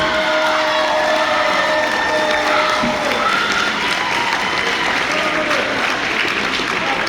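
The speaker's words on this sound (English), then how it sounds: "let's give a big round of applause to our Division 4 CIF champions, Rosary Warriors" At a high school track and field awards banquet, a crowd applauds and cheers the Rosary Academy Division 4 CIF champions, with loud continuous clapping and scattered whoops and shouts throughout.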